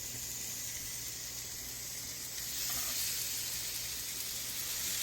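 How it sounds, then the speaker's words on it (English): Steaks searing in a hot cast iron skillet produce a steady, close hiss and sizzle that swells slightly midway and carries on without pause or talking. "Hear that nice, beautiful sizzle."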